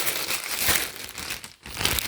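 Close, continuous crinkling of a plastic paper towel package being handled, with rustling bursts and a brief pause near the end.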